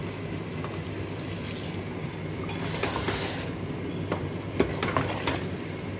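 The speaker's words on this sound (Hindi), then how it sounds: "इसमें डाल देंगे जी पानी।" Water is poured into a pot of chicken chana curry, giving a steady rushing, splashing wash with a brief brighter gush partway through, heard alone without talk.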